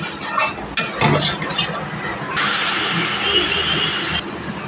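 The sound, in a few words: spices being stir-fried in a pan for rui fish curry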